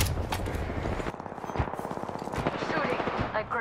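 Rapid automatic weapon fire in Apex Legends ranked play, a fast, steady rattle of shots over about three seconds, fairly close and mixed with other game sounds.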